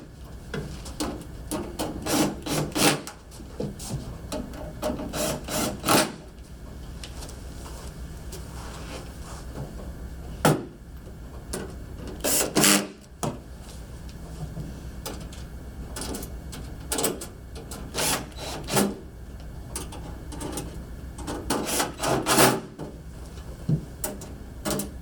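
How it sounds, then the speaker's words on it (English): Connection points being tightened on an ultrasonic humidifier transducer unit, repeated bursts of ratcheting and rasping scrapes with pauses between them, close and moderately loud. "go back and tighten up all of the 8"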